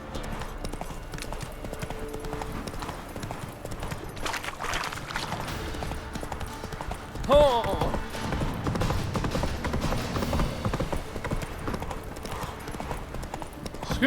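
Hooves pound in a fast, continuous galloping rhythm as a horse is ridden in the video game The Witcher 3, close and moderately loud, with a brief louder burst midway.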